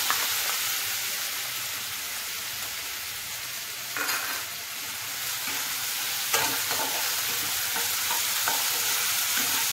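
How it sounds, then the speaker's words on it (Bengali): Ginger frying in hot oil for a Bengali fish shukto, a continuous bright sizzle with a few stirring knocks, close and steady throughout. "এবার আমি তেলে আদা দিয়ে দেবো।"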